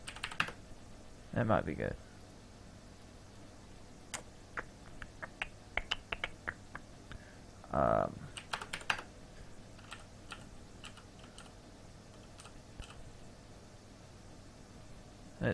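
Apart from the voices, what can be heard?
typing on a computer keyboard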